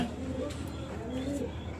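Soft pigeon coos murmur at low volume inside a pigeon house over a constant background hum, with no talk.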